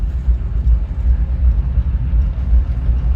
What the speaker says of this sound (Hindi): मेरी गाड़ी की साउंड इतनी प्यारी है ना इंजन की